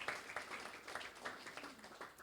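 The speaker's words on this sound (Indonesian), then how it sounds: "Beri tepuk tangan buat Tuhan Yesus kita." A church congregation at a worship service claps together in quick, uneven bursts, faint and somewhat distant, with no talk over it.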